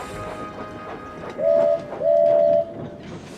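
A train whistle sounds two tones, a short blast then a longer one, clear but somewhat distant above a rumbling background.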